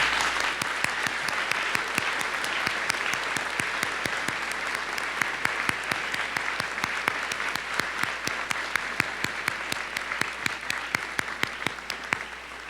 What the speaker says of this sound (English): let's please give these families a round of applause